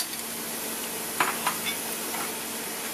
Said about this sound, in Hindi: ये देखिए प्याज हमारा भून करके तैयार हो गया है। इसमें मैंने ये सारे मिक्सर डाल दिए।